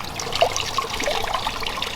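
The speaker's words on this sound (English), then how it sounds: "we've got some water coming down here into this area" Water trickles down a small garden pond waterfall, a continuous close babble of light splashes and droplets without pause.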